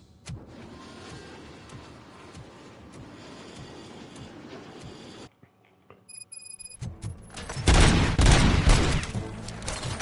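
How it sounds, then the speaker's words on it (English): Gunfire in the video game RoboCop: Rogue City, dense rapid shots at first, then a short quiet gap, then louder heavy bursts of shooting close by. "Gunshots? What's going on?"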